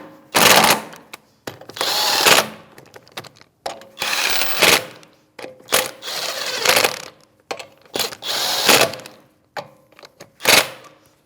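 Control arm bolts on a 2016-2025 Chevrolet Malibu are run down with a 19mm socket on a power tool, producing loud bursts of whirring and rattling that stop and start in short irregular runs, close by.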